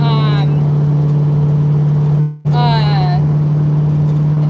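A 1968 Mustang's engine drones steadily at low pitch from inside the cabin while cruising, with a brief dip and short revving swells as it slows toward a stoplight.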